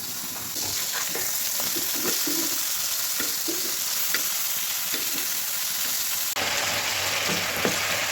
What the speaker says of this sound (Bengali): এখানে যে রুই মাছগুলো ভাজতেছি